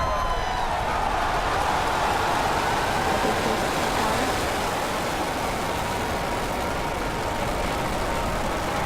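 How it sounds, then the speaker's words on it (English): A SpaceX Falcon Heavy rocket lifting off, a continuous loud, dense, broadband roar with deep rumble that holds steady without a break. "Ignition, liftoff."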